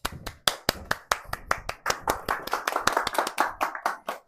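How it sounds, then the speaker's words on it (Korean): Classroom applause during a Korean lecture: a run of sharp, irregular hand claps from a group of students, fairly close and steady, without any talk over it. "박수."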